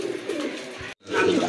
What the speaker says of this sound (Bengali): আরেক জোড়া কবুতর দেখতে পাচ্ছেন, টপ কোয়ালিটি, অনেক বড় সাইজের কবুতর।